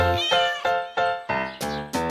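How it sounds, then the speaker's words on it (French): A run of cat meows in a French children's farm song, about six in quick succession, each a short bright tonal cry, loud and close with no talking. "Y a des miaou par-ci, y a des miaou par-là"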